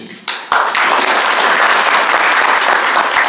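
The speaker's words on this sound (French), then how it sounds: "je sollicite aussi vos applaudissements pour ce acte dont" Audience applause swells after a brief pause, then holds as a steady, loud wash of many hands clapping throughout.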